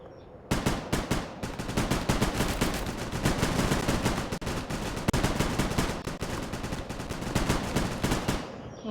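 Rapid automatic gunfire in a video game rattles almost continuously for several seconds, loud and close, with brief pauses between dense bursts.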